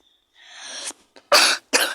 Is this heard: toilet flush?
no